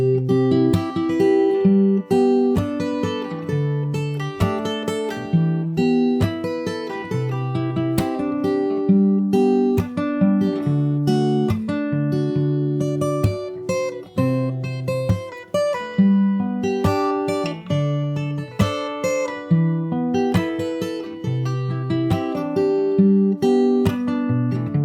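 Fingerstyle acoustic guitar playing the second chorus of a song, continuous plucked bass notes and melody in a steady rhythm, close and clear with no voices.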